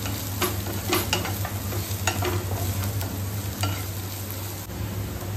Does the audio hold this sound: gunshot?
no